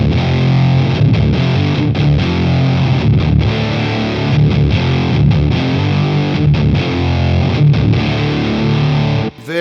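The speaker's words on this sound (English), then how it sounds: "Very solid fuzz sound, very solid." A guitar fuzz pedal cranked to full fuzz, played through a Boss Katana amp, gives a thick, saturated, buzzing tone with chugging chords and short pauses, loud and steady for nearly ten seconds before cutting off.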